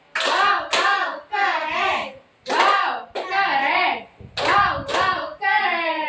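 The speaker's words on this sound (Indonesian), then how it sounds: "tepuk tangan." Children in a primary school classroom clap their hands in rhythmic bursts while chanting together in loud, close sing-song voices, claps and chanting alternating with short pauses.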